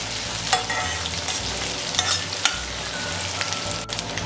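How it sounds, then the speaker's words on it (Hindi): Onions sizzle steadily in hot oil in a pan for a dal with fresh green peas, with occasional scraping stirs of a spoon, close and continuous, with no talking. "ऑनियन को कलर चेंज होने तक अच्छी तरह से फ्राई कर लूँगी"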